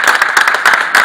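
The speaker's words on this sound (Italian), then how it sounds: "Ragazzi, un applauso di incoraggiamento!" A short burst of encouraging applause from a group at an Italian cooperative award ceremony, close and fairly loud with uneven clapping.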